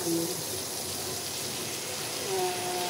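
Water mixed with cornstarch is poured into a pan while cooking honey glazed chicken, a steady close splashing and trickling hiss lasting throughout, with no talk over it.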